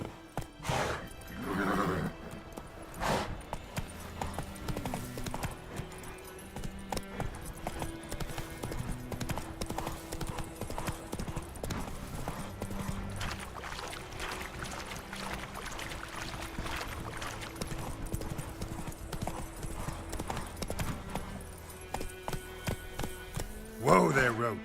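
Roach, a horse in The Witcher 3, gallops with steady rhythmic clip-clop hoofbeats and an occasional whinny, mixed with game music and ambience, while someone speaks over it.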